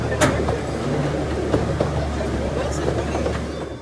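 A small zoo train rounds its last curve into the station, a steady low rumble with light rail rattle and faint clicks running throughout at moderate distance.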